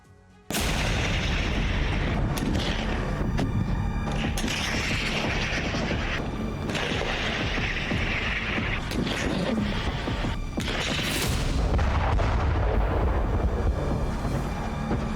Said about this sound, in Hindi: ओडेसा में बरसती मिसाइलों, खार्किव में होते धमाकों और डोनेस्क में एक दूसरे पर मोर्टार दागते रूसियों और यूक्रेनियों को देख रहे हैं।